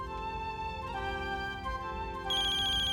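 A phone ringtone plays a bright electronic melody, repeating tones that grow louder and higher partway through, with no voices.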